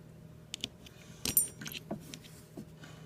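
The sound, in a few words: handcuff and leg iron keys being handled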